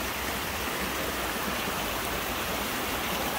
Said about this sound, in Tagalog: Masarap pakinggan yung mga sounds ng mga ibon dyan eh. Tsaka yung sounds ng tubig.